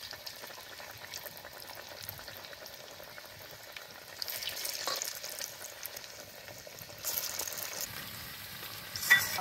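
Onion pakoras deep-fry in plenty of oil, giving a quiet, continuous bubbling sizzle that swells a little louder in a few stretches, with a brief knock near the end.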